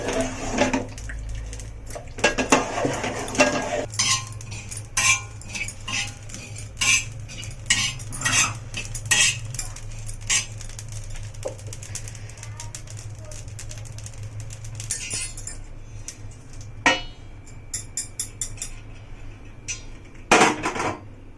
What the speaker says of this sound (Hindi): इस दाल को अब हम मिक्स कर रहे हैं